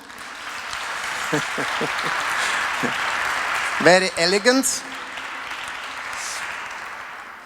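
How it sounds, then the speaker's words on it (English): Audience applause for a professional Latin dance couple at a dance training camp, a steady broadband clapping wash running throughout, with someone speaking briefly over it midway. "Please applaud them."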